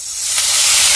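Water poured onto hot frying spices for a Bengali taro leaf dish, a sudden loud hiss of steam that builds quickly and holds, close and alone.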